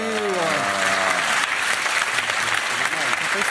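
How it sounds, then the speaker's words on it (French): Studio audience applause, dense and loud clapping throughout, with a person talking over it at the start. "Prenez un peu les applaudissements, Anthony,"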